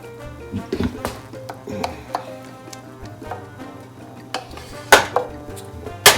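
Cooked taco filling being moved from a pan into a bowl, with scattered clinks and scrapes of a utensil against metal and dishware, sharp knocks at irregular intervals over a low background hum.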